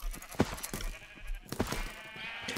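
Sheep in a Minecraft minigame bleat twice in short separate calls, each standing out clearly against a soft background bed of game noise.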